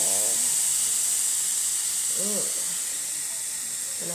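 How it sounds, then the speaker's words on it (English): Sauce hisses and sizzles steadily in a pan with burnt onion and sweet pepper, a close, continuous steamy hiss broken by a couple of brief voice fragments. "I'm gonna throw in my sauce in my can there."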